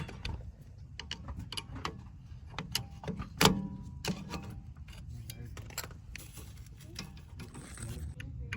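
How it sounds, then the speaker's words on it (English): Small scraping clicks and metallic ticks from a flathead screwdriver prying out a rear brake part on a Honda Odyssey or Pilot with an electronic parking brake, irregular and close, with one sharper knock midway. "we're gonna pry it out with a flathead screwdriver right here"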